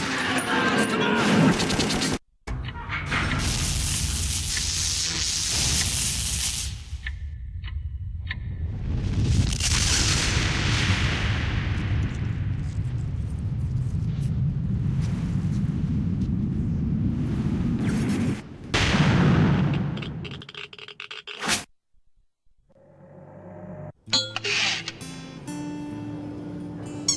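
Gunfire and explosions in a first-person shooter, dense rumbling booms and rapid shots filling most of the stretch, with shouting voices mixed in before the noise drops away to quiet.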